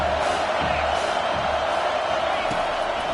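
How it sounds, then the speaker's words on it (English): Home football crowd roaring steadily at a stadium during a game, a dense broadband wall of cheering that holds loud and constant throughout. "Man, this crowd really affecting the football team."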